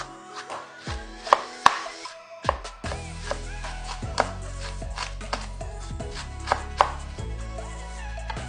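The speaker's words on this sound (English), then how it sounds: "So cut your cabbage." A knife chops purple cabbage on a board for a shawarma salad, with irregular sharp close cuts that become a rapid steady run of chopping, and no one speaks.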